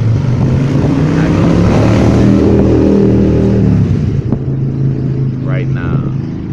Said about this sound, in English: Motorcycle hating on my outro